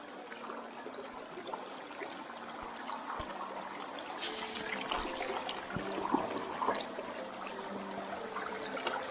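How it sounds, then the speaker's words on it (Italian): River water, dammed to channel it, flows steadily into a sluice box with a soft, continuous trickling rush and faint splashes, fairly quiet and alone. "l'acqua venisse convogliata all'interno della canaletta"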